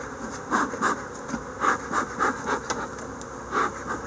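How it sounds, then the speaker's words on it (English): Agitated bees swarm around opened hive boxes being reduced to two, their buzzing steady and close, swelling in repeated pulses as the frames are handled, with no talking. "Bees are mad now."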